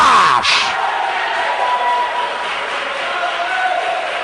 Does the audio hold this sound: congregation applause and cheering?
yes